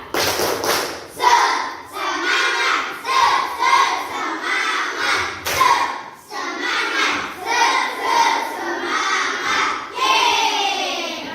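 A class of schoolchildren performs a rhythmic group clap chant, bursts of clapping alternating with shouted chanting voices in a repeating pattern, loud and close throughout.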